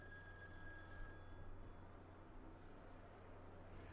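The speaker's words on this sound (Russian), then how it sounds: "Звонит телефон. Звонит телефон." In the horror game Mental Hospital IV, a telephone rings faintly in a steady electronic trill beneath a dense, low rumbling ambience that runs throughout.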